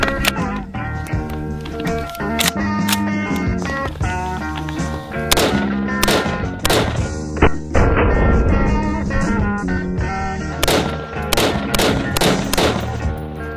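A 7.62x51 AR-based rifle fires a rapid string of sharp, loud shots, close and irregularly spaced over several seconds, some in quick bursts, with no clear talking.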